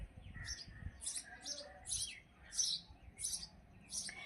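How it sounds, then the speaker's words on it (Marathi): Sparrows chirp steadily in short, bright bursts, about two per second, fairly distant and faint over low rumbling background noise. "चिमण्यांचा कसा आवाज येतोय बघा."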